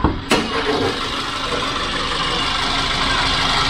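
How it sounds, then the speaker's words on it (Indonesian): A click, then a Toyota Avanza engine idles smoothly and steadily nearby, a constant low hum with no voices. "Halus nih mesin nyala nih."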